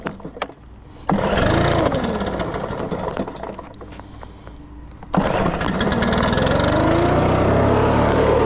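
A commercial-grade gas backpack blower with choke on sputters briefly, then catches at about one second into a loud steady drone that dips and surges again, running close and alone without talk.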